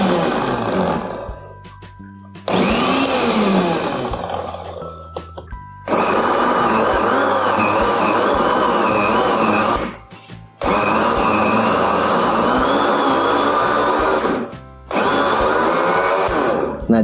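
An electric blender grinds a thick, low-moisture shrimp paste, running loudly in several long bursts with short pauses between them, its motor whirring and straining.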